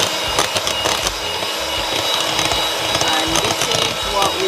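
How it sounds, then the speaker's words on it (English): A mixture for homemade Grape-Nuts ice cream is whisked, a continuous busy mechanical whirring and rattling that stays loud throughout, with a voice over it. "we are going to keep whisking until we get a stiff"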